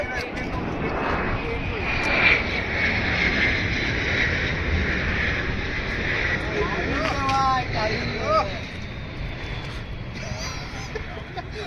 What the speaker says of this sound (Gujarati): પ્લેન આવે છે, પ્લેન આવે.